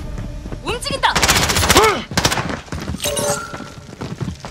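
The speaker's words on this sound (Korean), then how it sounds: "놈들이 쏜다!" Bursts of rapid automatic gunfire and single shots crack through a Call of Duty: Modern Warfare firefight, loud and close, mixed with shouted voices and impacts.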